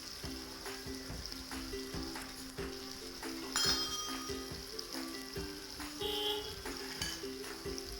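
Chili thecha, asafoetida and turmeric sizzle in hot oil with fenugreek seeds for a Vidarbha-style red pumpkin bhaji, a steady close frying hiss broken by occasional spoon clinks and scrapes against the pan, no voices.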